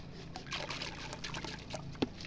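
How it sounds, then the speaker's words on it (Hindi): Pesticide powder is being stirred into water to treat white grubs, giving a soft, continuous liquid swishing and trickling with a small splash near the end. "तो देखते हैं इसको इस तरह मिट्टी में पानी में घोल लेते हैं हम इसको।"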